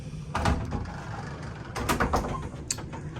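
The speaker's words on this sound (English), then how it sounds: "So it's a sliding door." A sliding door to a cruise ship cabin bathroom rolls open with a short rumbling slide and a few knocks and rattles, fairly close and without talking.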